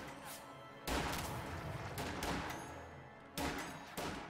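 Light machine gun fire in an online strategy war game, steady rattling bursts with sharp onsets, quiet and somewhat muffled under a dense battle din.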